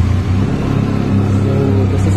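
A Benelli Leoncino 500 motorcycle idles at about 1500 rpm through its twin-pipe exhaust, giving a close, steady low burble that continues alone throughout.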